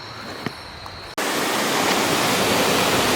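A big jungle waterfall comes in as a loud, dense, continuous rush of water. A quieter, thinner ambience with a couple of faint ticks plays for about a second before the roar starts.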